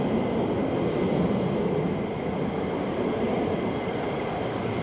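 A C-17 Globemaster military transport aircraft flying in toward Mildenhall, its engines producing a broad, continuous roar that stays steady and fairly loud throughout, with no speech over it.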